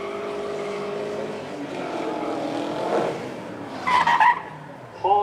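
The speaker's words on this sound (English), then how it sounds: "How far can he spin those rear wheels?" A supercar at a crowd-show event spinning its rear wheels, a rising engine roar building to sharp, squealing tire screeches near the end, with a commentator's voice partly over the sound.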